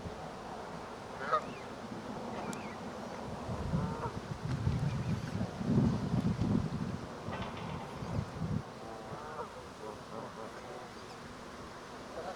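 Geese honking while being fed sweet corn outdoors, scattered calls near and far over gusty wind noise, with a pigeon also around.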